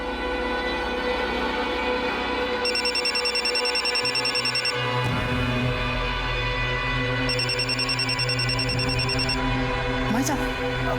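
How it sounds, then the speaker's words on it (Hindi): A mobile phone rings in two separate bursts of high, trilling electronic tones, heard under a steady bed of background music and low voices in a household scene. "भाई साहब, भाभी जी का फोन बज रहा है।"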